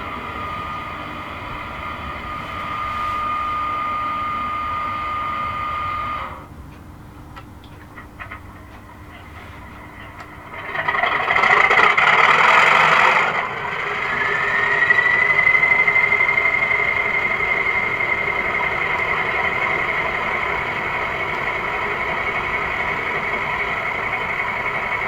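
An Accurascale Class 31 OO gauge sound-fitted model locomotive starting up, a steady electronic engine drone with a sustained whine, a brief dip, a loud burst as the engine fires, then a settled hum with a rising tone.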